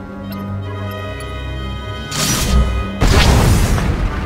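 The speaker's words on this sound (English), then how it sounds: "With one movement, our flux cannons fire, and an Imperial capital ship is disintegrating." Flux cannons fire and an Imperial capital ship explodes in a Star Wars video game, heard as two heavy booming bursts, the second louder and rumbling on, above a low synthetic hum.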